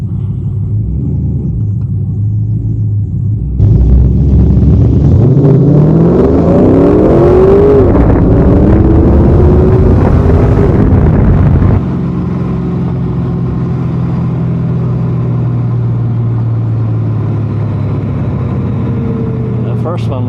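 A 2002 Chevrolet Camaro SS with 3.90 gears launching in a 0-60 run on warm, aired-down tires: a loud engine rumble swells into a hard rising rev for several seconds, then eases back to a steady drone.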